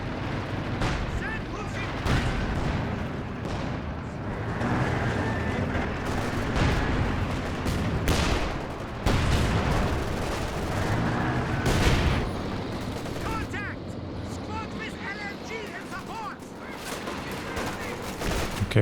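Cluster bomb explosions and gunfire in the Company of Heroes 2 real-time strategy game, a dense barrage of overlapping blasts and rattling shots that continues for the full stretch, loud and chaotic, with commentary voices running underneath.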